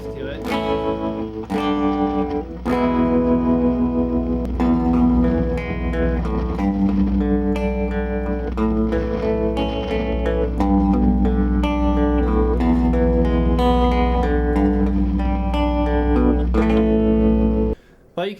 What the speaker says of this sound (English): Now we'll go to the tremolo.